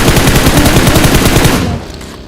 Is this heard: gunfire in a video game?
yes